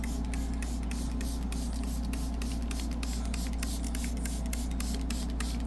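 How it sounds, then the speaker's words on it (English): Rapid bursts of fine spray from a spray bottle misting seedlings hiss repeatedly, a steady pumping rhythm of misting with a low hum underneath. "Now we have our spray bottle to spray our seedlings. Spray it lightly."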